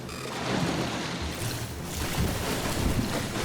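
Wading through shallow water in the video game Scanner Sombre, a continuous sloshing, rushing water sound with soft surges, fairly loud and steady, with no talk over it.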